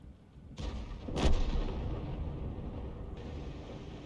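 A tank cannon fires in a World of Tanks-style game while driving a GW Tiger (P), a single loud boom rising from continuous engine rumble and track noise, with a sharp blast near the middle and the rumble carrying on after.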